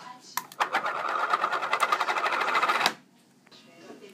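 A small electric plastic bag sealer is switched on and runs with a steady buzzing, rattling hum for about two and a half seconds before cutting off abruptly, preceded by a few handling clicks and followed by quiet room noise.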